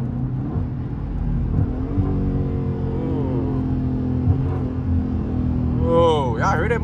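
A Dodge Charger 392 Scat Pack engine rumbles low and steady from inside the car, rising in pitch as it revs a couple of times, with a person talking over it.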